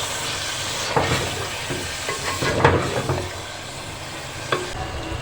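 Onions frying in a pan with garlic and ginger, a steady sizzle with stirring scrapes and a few clinks, close and continuous with no talk.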